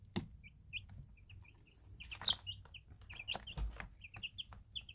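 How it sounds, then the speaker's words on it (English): Chickens of several different breeds kept together cluck and peep softly in short, scattered calls with a few sharper notes. The birds sound close but quiet against a low background hum, with no talk. "different breeds of chickens can get along, especially like these guys"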